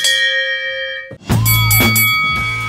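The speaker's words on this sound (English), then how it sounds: "my guest may ring the bell" A hand bell rung at close range: a bright metallic tone rings and sustains, then a second louder stroke sets off fresh shimmering, overlapping peals.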